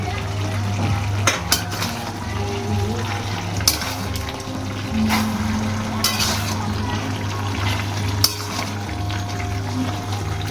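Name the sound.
stirring masala in a pan until the oil separates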